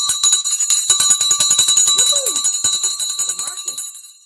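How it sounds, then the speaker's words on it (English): A bell rings for the stock market close, struck in a rapid, steady run of loud metallic clangs that continue for several seconds and then fade. "I got the bell here."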